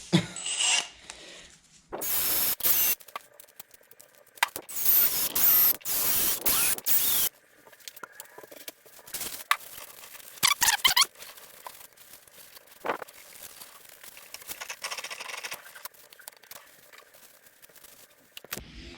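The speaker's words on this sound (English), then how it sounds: "All these holes are 1/4 20, so I'm actually going to chase them all. very gently." A tap chasing 1/4-20 threaded holes in the housing of a 1977 Evinrude 115hp V4 outboard motor, giving close, irregular bursts of scraping and rasping with quiet gaps between them.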